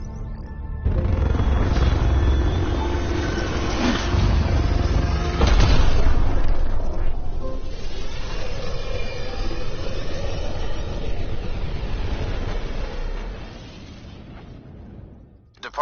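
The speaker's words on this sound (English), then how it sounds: "Nexus Control, this is the Tempest, ident 2527, prepping to depart." The spaceship Tempest lifting off in a video game, a loud, continuous low roar of engines with a heavy boom partway through, gradually fading toward the end.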